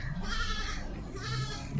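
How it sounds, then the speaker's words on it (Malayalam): Canadian pygmy goats bleating, two drawn-out calls heard close by, one near the start and another around the middle of the short clip, each with a clear wavering nasal tone. "കനേഡിയൻ പിഗ്മിയാണ് ആടുകൾ"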